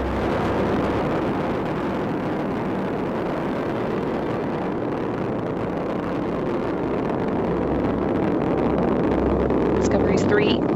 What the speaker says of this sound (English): Liquid fueled main engines are now throttling down to reduce stress on the shuttle